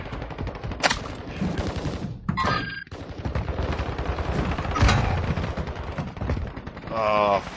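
Video game gunfire in an online shooter match: loud, rapid bursts of automatic fire and single shots repeat across the clip, close and sharp, while players talk over team voice chat.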